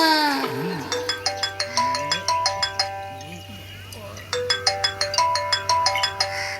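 A cheerful electronic phone ringtone plays a repeating chiming melody, with a low steady hum beneath and a brief voice-like sound early on.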